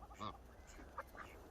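Free-ranging domestic fowl near their coop give a few faint, short honking and quacking calls, spaced irregularly against quiet background.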